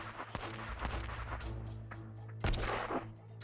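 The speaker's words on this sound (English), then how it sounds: "When I squeeze the trigger, the pistol issues a deafening noise." Pistol gunshots in the video game Vampires Melody: several sharp, loud cracks, one near the start and a heavier blast around two and a half seconds in, over a steady droning game score.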